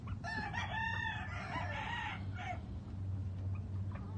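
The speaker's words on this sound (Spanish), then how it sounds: "Gallito de kelso de los Bruce Barnett y la gallinita también." A young Kelso gamecock rooster crows once, moderately near, over a low steady background hum on a gamefowl farm, with a faint second call after.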